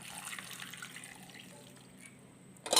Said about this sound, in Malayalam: ഇനി ഇത് വേവാൻ ആവശ്യത്തിനുള്ള തേങ്ങാപ്പാൽ ഒഴിച്ചു കൊടുക്കണം